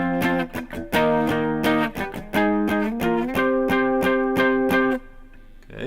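Distorted electric guitar plays the first two measures of a song, heavy chugging power chords in stop-start bursts with short gaps, loud and close, then a final chord cut off near the end.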